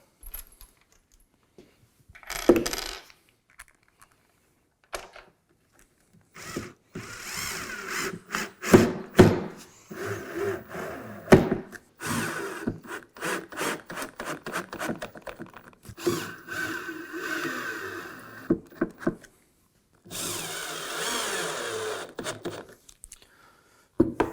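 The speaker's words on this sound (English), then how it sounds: "drive a screw in each corner while the plate's installed" Screws driven into each corner of a router plate set into a sliding router table, heard as bursts of drill whir and thumps in irregular runs separated by short pauses.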